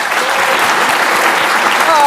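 Conference audience at SREcon16 Europe beginning to clap for a speaker being introduced, a dense, loud burst of many hands that holds steady for a couple of seconds.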